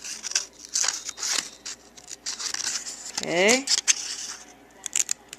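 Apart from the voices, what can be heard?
scissors cutting paper along drawn lines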